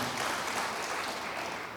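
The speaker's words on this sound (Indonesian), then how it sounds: "Tepuk tangan buat Tuhan." A congregation at a church service claps together, a brief, dense and even wash of applause from a large room, heard steadily without speech.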